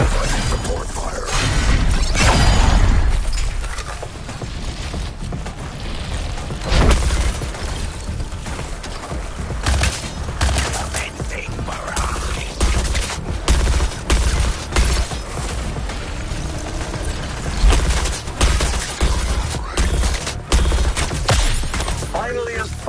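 Support gunfire in the Suicide Squad video game crackles as dense, overlapping bursts through a busy combat mix, with loud shots and crashes scattered across the whole stretch while voices talk over the action.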